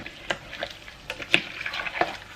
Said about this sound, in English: So I'm going to give this a really good stir